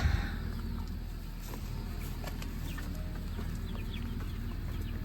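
Chickens clucking and murmuring together nearby, a steady flock chatter with scattered short calls over a constant low background hum.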